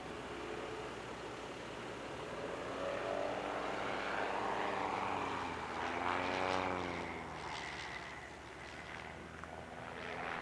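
Propeller aerobatic airplane performing at the California International Airshow, its engine droning at a distance and swelling with a rising, wavering pitch as it maneuvers past, moderately faint against open-air ambience.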